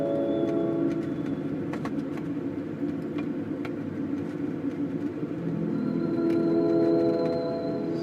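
A helicopter engine in Microsoft Flight Simulator 2020, still winding down after shutdown, gives a steady low mechanical rumble with faint ticking and a thin whine that rises slightly near the end.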